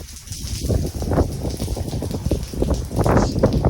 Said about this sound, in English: It's unbelievably windy out here.